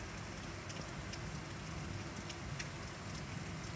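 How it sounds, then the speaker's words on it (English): Steady rain during a thunderstorm, faint, even hiss of falling drops throughout with a few brief louder ticks, no voices. "Can hear it rain too."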